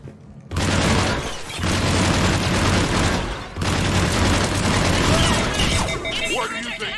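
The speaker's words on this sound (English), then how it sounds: "Grenade!" A grenade explosion in the video game Mass Effect 3, with loud crashing blasts and crackling debris that surge twice in close succession, and voices partly mixed into the chaos.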